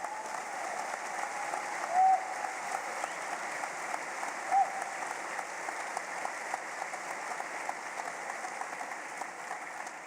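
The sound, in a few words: audience applause at event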